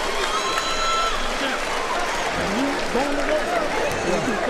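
A boxing arena crowd applauds and cheers during a fight, a steady wash of clapping and roaring noise throughout, with voices talking over it.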